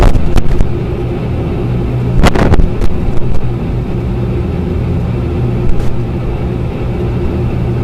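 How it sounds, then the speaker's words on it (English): A Lear Jet comes in to land on a runway, its loud, steady engine rumble and roaring wind noise filling the cabin throughout, with a few brief bumps and clunks breaking through near the start and middle. "We line up on the runway and prepare for landing."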